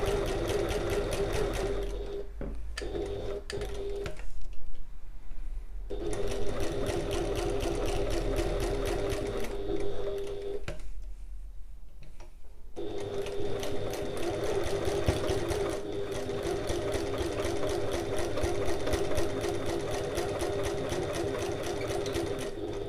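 A sewing machine runs in long steady stretches of rapid rhythmic stitching while top stitching and basting the open edges of a passport folio, broken by two short pauses, close and clear with no talking.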